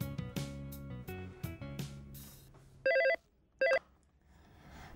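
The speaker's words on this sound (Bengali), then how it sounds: "ফোন করে দেখো ও কি বলে।" A telephone rings during a call: a few bright musical tones, then two short electronic ring bursts, clear and close, with nobody talking.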